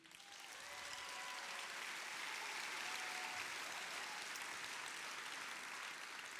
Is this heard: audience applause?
yes